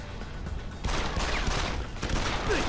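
A shotgun fires in Deus Ex: Human Revolution amid a run of loud, close gunfire bursts. A dense fusillade starts partway through and continues with rapid overlapping blasts.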